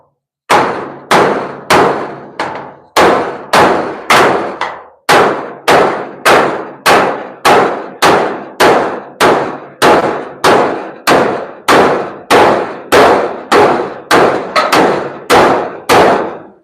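Heavy hammer blows strike metal to push out a freshly welded spot, a loud, evenly paced series of ringing clangs, roughly two per second, close and alone.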